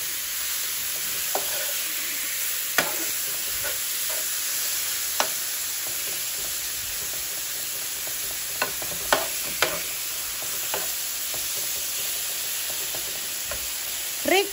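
Chicken breast fries in a little oil on a griddle for tacos, giving a steady, fairly quiet sizzle broken by occasional sharp pops and scrapes.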